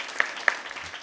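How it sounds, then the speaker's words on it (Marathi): The audience at a kirtan gives brief, soft applause, scattered claps with a couple of sharper individual hand claps standing out near the start. "एकदा त्यांच्यासाठी सगळ्यांनी टाळ्या वाजवा"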